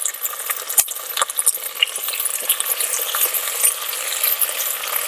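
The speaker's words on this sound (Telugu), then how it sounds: "అల్లం వెల్లుల్లి పేస్ట్ బాగా వేగిపోయిందండి" Ginger garlic paste fries in a pan over a firewood stove for a country chicken curry, giving a loud, steady crackling sizzle with a few sharp stirring clicks and no voices.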